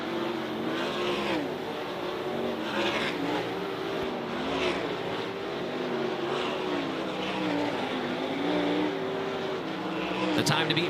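Race cars lap a dirt track during a hot lap session at Outlaw Speedway, their engines a steady, sustained roar with a rising and falling drone as cars pass, heard from a distance under announcer talk.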